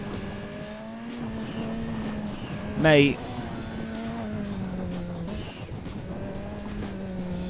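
A race car drones in Gran Turismo 2 with a steady engine tone. It lets out one sharp tire squeal and skid partway through, while someone talks over the gameplay.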